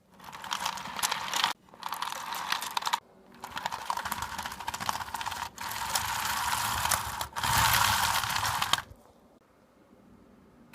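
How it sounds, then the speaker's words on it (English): Best Lock Desert Storm toy tank tracks rolling across carpet, a steady plastic clattering whir in several bursts with short pauses between, close and fairly loud, ending in quiet. "the track rolls very well on carpet, semi alright on hard surfaces, so it does get stuck a little bit"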